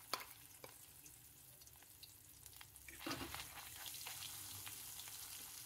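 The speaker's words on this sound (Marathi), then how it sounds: "तेल गरम झालंय. आता आपण याच्यात जो मसाला आपण वाटून घेतलेला आहे तो टाकणार आहे" Ground masala paste goes into hot oil for a spiced drumstick curry. The soft crackle swells into a louder, steady sizzle about halfway through, and no voices are heard.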